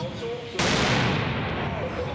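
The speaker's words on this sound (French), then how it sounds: "utilise la charge explosive d'un mortier normalement réservé aux artificiers professionnels comme une véritable grenade" A professional firework mortar charge, thrown like a grenade, goes off in one sudden, loud blast, followed by a rumbling tail that slowly fades.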